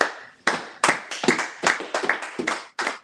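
A congregation at a sabbath service claps in short, distinct bursts, several sharp rounds of hand claps with brief pauses between them, close and loud with no talking.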